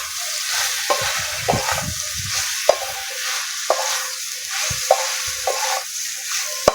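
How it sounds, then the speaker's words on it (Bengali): Spiced soybean chunks stir-fried in a pan, a constant oily sizzle broken by sharp, regular scrapes and knocks of a spatula against the pan, with no voices. "সয়াবিনটা ভালোভাবে কষিয়ে নেবো।"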